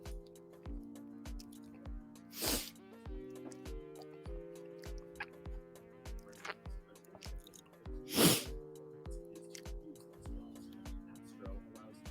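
Two sharp, explosive sneezes burst out close to the microphone, one early and one later, over a quiet background of soft rhythmic ticking and low music.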